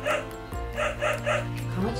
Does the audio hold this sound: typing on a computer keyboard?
no